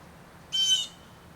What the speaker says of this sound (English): I'm sharing the shade with a bird.